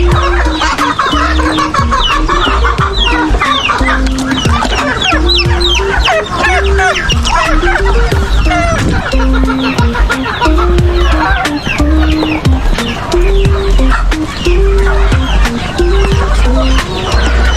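A flock of farm chickens clucks busily and continuously while being fed ground Madre de Agua leaves, commercial feed and corn. The loud, close, overlapping calls jostle together with no talking.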